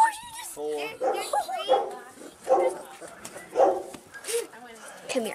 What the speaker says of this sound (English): How many little puppies are there?